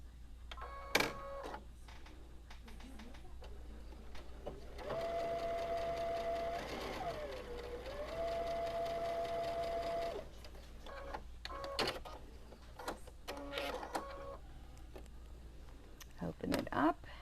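A sewing machine stitches a quilt block seam, joining a tree trunk piece to 2.5 inch strips with a quarter inch seam, running steadily for about five seconds amid brief clicks and handling noises before and after.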